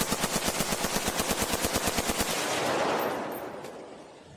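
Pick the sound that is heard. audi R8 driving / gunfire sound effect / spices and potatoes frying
gunfire sound effect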